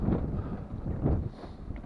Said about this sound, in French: il y a pas mal de vent quand même